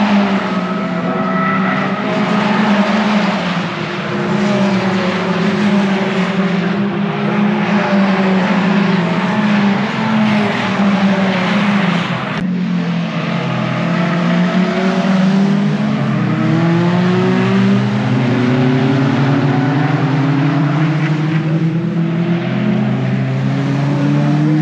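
Caterham race cars lapping Brands Hatch during a Caterham Graduates race, several engines loud and close with high revving that rises and falls through gear changes, sustained and unbroken across the clip.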